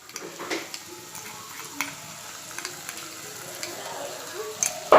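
Green masala fried with onions in a pan, a quiet, continuous sizzle with scattered stirring clicks and scrapes, ending in a brief louder clatter, close and without talk.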